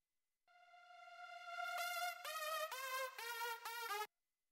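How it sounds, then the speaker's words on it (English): A synthesized EDM tone with Roomworks reverb swells in and then pulses in several rhythmic stabs before stopping abruptly, a smooth wash of reverb around each hit, with no talking. "you may want to put like a little reverb on it so it won't be so like harsh"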